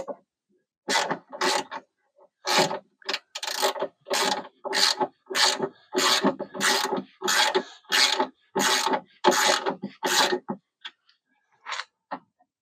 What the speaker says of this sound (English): I'm taking a deep socket,